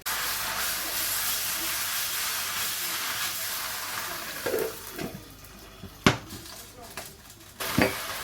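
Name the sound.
Portuguese pork chops with soy sauce steaming under lid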